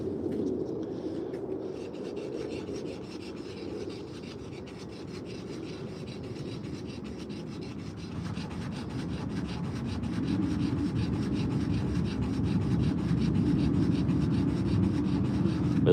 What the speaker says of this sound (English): it makes where you can get more even pressure than just having a piece of flat sandpaper in your hand.